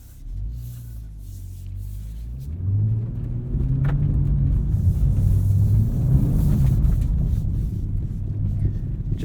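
A 2022 BMW M240i xDrive Coupe pulls hard, its engine note climbing from a low idle-like drone into a louder sustained growl heard from inside the cabin, with a brief voice early on.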